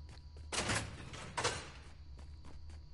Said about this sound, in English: It sounds like Minecraft doors opening.